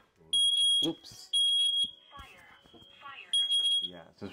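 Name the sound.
smoke detectors going off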